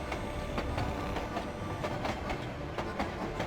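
Rumbling train in a point-and-click adventure game, a steady dense rattle with rhythmic clickety-clack wheel beats repeating throughout at constant loudness, with no voices.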